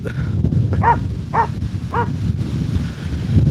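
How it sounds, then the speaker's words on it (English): A dog on a morning walk gives three short barks spaced about half a second apart, heard at moderate distance over steady wind noise outdoors. "Got a dog there."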